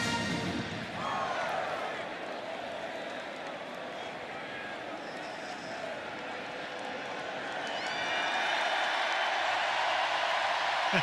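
Steady roar of a packed stadium crowd at Florida's home field in a Florida State at Florida college football video game, a dense wall of noise that swells louder near the end, with no talk over it.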